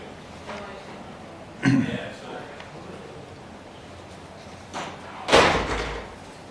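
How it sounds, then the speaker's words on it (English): A door is shut twice in a hallway beside a public meeting room, two sharp thuds a few seconds apart over low room chatter and background voices. "Could someone close the door, please?"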